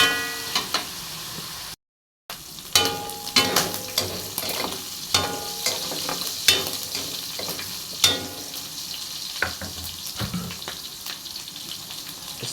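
Small pieces of pork stir-fried in a frying pan, with steady sizzling and repeated scraping clacks of a utensil stirring, close and fairly loud, with one short silent gap.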